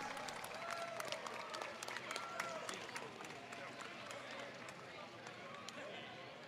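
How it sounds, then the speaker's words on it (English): A crowd at a combat robot competition claps in a steady wash of applause, heard from a distance at low level, with faint chatter and arena noise mixed in. "let's give a big round of applause."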